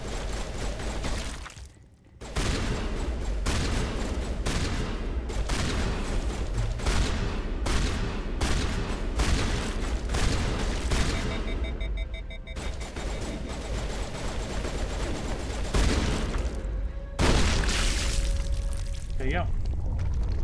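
Shotgun fire in the Mass Effect video game, a steady barrage of repeated booming shots over continuous game noise, close and loud, with a brief dip near the start and a voice talking over parts of it.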